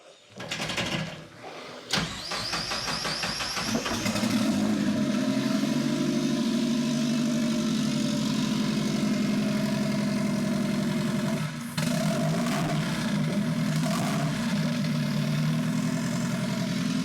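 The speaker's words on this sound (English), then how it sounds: "Start up real quick to give you guys an example of what this sounds like, so you know what a rod knock sounds like." A Miata car engine with a rod knock cranks and fires up, then settles into a loud, steady idle with a low rumble; a faint knocking may be buried under the exhaust noise.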